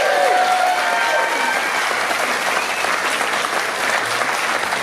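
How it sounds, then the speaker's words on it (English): Audience at a hall of fame induction ceremony gives a warm round of applause for a posthumously inducted member, steady and full for nearly five seconds, with a few voices and cheers rising early on. "Give her a round of applause."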